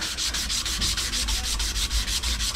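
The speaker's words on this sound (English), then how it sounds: "Get this sanded down beforehand." Steady, close rhythmic rasping of abrasive cloth sanding a pipe before a valve actuator is fitted on a water source heat pump, a continuous back-and-forth scrubbing with no voices.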